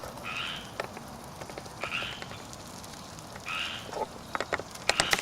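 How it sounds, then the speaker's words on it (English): A frog croaks outdoors near a backyard barbecue, its short rasping calls coming at irregular intervals, a few seconds apart, at moderate distance over a steady ambient hiss with small clicks and knocks. "Where's that frog? I hear a frog."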